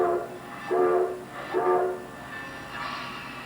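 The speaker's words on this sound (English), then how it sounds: "The flagship of the Grand Canyon Railway is locomotive number 4960, seen here backing away from the engine house" Grand Canyon Railway steam locomotive number 4960 backing away from the engine house, giving a few repeated, moderately loud horn or whistle-like blasts with a steady rail rumble beneath, no voices.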